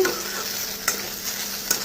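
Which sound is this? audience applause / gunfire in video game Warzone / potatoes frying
potatoes frying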